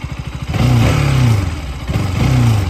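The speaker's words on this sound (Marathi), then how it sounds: "आपण आता बाईक स्टार्ट केलेली आहे." A KTM RC 200 motorcycle engine runs close by, its pitch rising and falling in two short revs.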